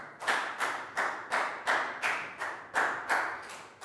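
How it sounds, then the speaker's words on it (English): A small classroom group claps in unison for a Year 3 pupil, about ten sharp, evenly spaced claps in a steady rhythm, close and fairly loud, with no talking over it. "Big round of applause for Net."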